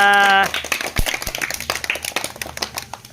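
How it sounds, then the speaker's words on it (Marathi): A small group clapping for the winner of a glass-picking mind game, uneven irregular claps after a short tonal sound at the start, close and moderately loud with a few thumps mixed in. "कोण जिंकलं मग दा त्यासाठी टाळ्या वाजवा"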